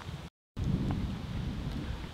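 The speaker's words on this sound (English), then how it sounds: "why is it so goddamn windy around here?" Steady low rumbling wind buffeting a microphone, briefly cut to silence, then returning as continuous gusty noise.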